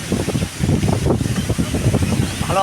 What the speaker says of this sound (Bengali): ভালো হাওয়া হচ্ছে